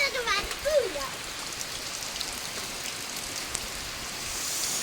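Heavy rain pours down steadily in a broad, even hiss, with a brief burst of voices near the start before the downpour carries on alone.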